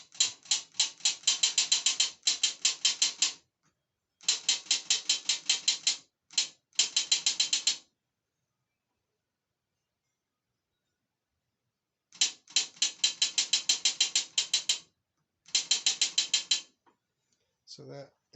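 Transmission solenoids from an 09G gearbox, tested while heated on a stove in warm transmission oil, give rapid bursts of sharp mechanical clicking in several clusters separated by long silences, close and moderately loud with no talking.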